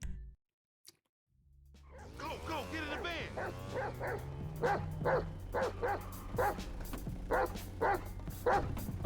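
Repeated barks from a dog in Grand Theft Auto V, evenly spaced over a steady electronic background with some tonal music-like sweeps, the barks sounding slightly processed.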